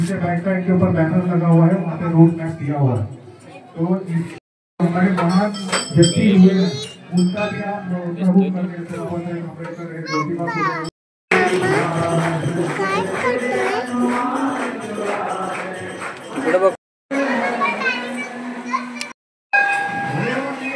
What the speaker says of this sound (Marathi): बजरंग बलीची आरती वगैरे चालली आहे, खूप गर्दी आहे